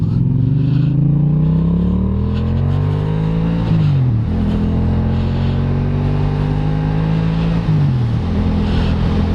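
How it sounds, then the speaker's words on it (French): A 2021 Yamaha MT-07 motorcycle fitted with a full Arrow exhaust system revs loudly and close by, climbing through the gears in two rising pulls with short dips at each shift, with no talking. "Le moteur est toujours autant rageur"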